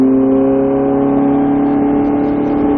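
A Ferrari 458 engine droning steadily under throttle on a race track, a loud, sustained tonal hum heard from inside the car with no break.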